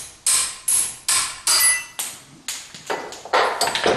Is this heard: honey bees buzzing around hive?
no